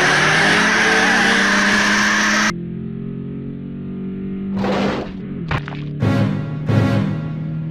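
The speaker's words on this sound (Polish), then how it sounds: "Wojtas, gazu!" A car engine revs and pulls away, starting as a loud, dense roar that cuts off abruptly, then returning as several shorter revving surges over a quieter engine hum.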